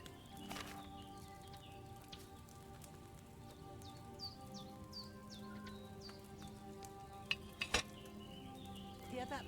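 Soft bubbling and popping from a boiling cauldron in the video game Kingdom Come: Deliverance 2, steady throughout, with a few brighter clinks and chirpy tones over a low hum.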